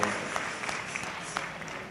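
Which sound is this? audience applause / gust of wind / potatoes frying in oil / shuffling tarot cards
audience applause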